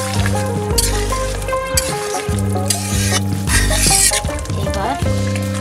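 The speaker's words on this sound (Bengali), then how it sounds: "ঠিক আছে, এবার দিয়ে নাড়াচাড়া দিই।" Papaya duck curry frying in a pan as it is stirred, with close, loud sizzling and repeated scraping and clanking strokes of the spoon against the pot, plus some tonal background sound throughout.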